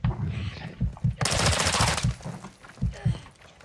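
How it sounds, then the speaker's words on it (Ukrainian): Bursts of automatic gunfire from a Call of Duty Warzone 2.0 DMZ match crackle loudly in rapid fusillades, with dense sustained fire in the middle, amid game effects and occasional low voices. "Ой, по мені стріляють"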